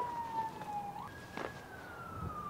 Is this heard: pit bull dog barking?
no